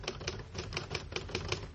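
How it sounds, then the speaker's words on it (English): Underwood typewriter keys struck in a quick, steady run of about ten sharp mechanical clacks, close and clear with no voices over them. "I'll type it out for you right now on my Underwood typewriter"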